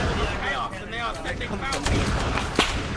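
Battlefield gunfire in the Arma 3 Warhammer Fantasy mod, where Empire troops fight undead hordes with cannon support. Booming, crackling shots layer over steady combat noise while someone talks throughout.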